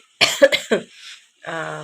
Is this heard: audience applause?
no